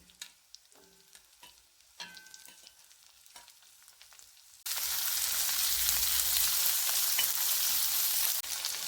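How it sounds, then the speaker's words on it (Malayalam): Onions frying in a hot pan for a bitter gourd theeyal, a loud steady sizzle that starts abruptly partway through after a few quieter kitchen clinks and taps, then continues without voices. "ഇനി ഇവിടെ ഉള്ളി വഴന്ന് വരട്ടെ"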